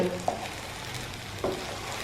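Eggs for Chinese-style egg bhurji stirred in a frying pan: a steady low sizzle runs throughout, with two brief scraping stirs near the start and middle, close and moderately quiet.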